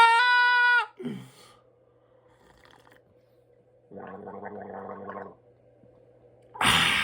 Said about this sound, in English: start this off with a nice gargle of this strong black cup of coffee